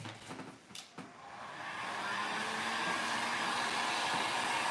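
A heat gun drying paint on a mirror during an upcycling project, a steady loud blowing whoosh that rises and then holds constant, with a few knocks near the start.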